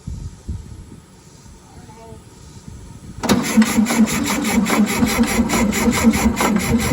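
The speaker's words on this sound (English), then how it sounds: "All right, let's turn it over and see if it sparks at the rotor here." A 1967 VW Beetle engine, parked over 20 years, cranks over with a fast rhythmic churning starter sound that begins abruptly midway and continues loudly to the end, following quieter handling noises.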